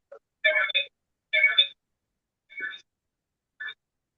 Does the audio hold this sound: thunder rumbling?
no